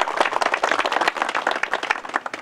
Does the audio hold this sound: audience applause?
yes